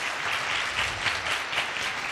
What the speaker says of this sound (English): Can I get a hand clap for these two?